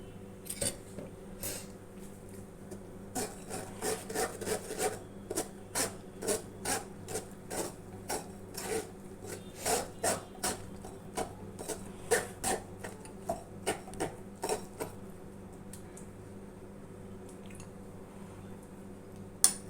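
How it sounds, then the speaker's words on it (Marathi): Coconut milk squeezed and strained by hand from grated coconut and water, heard as a steady run of soft wet squishing and rasping pulses repeating every second or so, close up with no talk. "आता हे नारळाचं दूध काढतोय आपण"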